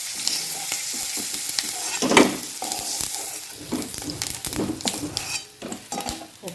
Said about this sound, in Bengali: একটু ভেজে নেব শুটকিগুলি। লাল লাল করে ভেজে তারপর আলুগুলি ভাজবো।